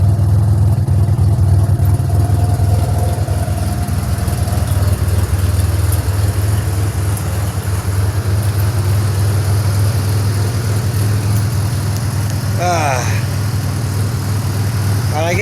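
A 2007 Pontiac Grand Prix GT with an XPZ cam idles nearby, a steady low rumbling drone that holds even throughout, with a brief chirping squeal near the end.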